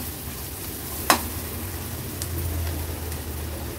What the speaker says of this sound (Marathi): वाटण थोडंसं तेलावर परतून घ्यायचंय.